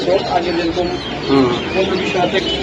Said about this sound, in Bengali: এটা হলো নটটা ডাকতেছে অলরেডি